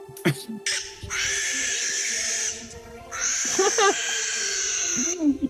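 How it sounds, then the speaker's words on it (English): A barn owl gives long, harsh, hissing screams, two extended shrieks close and loud, with short voice-like calls between them. "Barn owl screaming."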